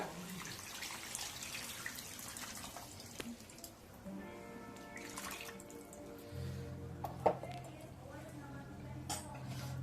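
Tamarind broth being poured into a simmering fish curry in a home kitchen, giving a soft liquid trickle and drip amid quiet background noise, with brief speech in between.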